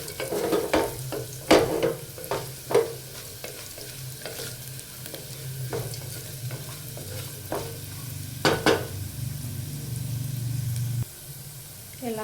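Turmeric is stirred into a frying pan mixture for mint rice, with repeated sharp scraping strokes of a spoon over a continuous soft sizzle.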